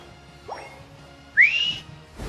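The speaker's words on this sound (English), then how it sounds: "Yeah, I can whistle." A single rising whistled note from a person, a short upward glide held briefly at moderate loudness over quiet background, with faint noises before and after.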